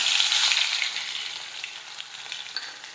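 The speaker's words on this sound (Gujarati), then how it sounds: "ખાંડેલું લસણ નાખીશું." Crushed garlic drops into hot oil already crackling with mustard seeds and cumin, for a Gujarati ganthiya and tomato curry; a loud, close, steady sizzle that eases slightly as it goes on, with no voices.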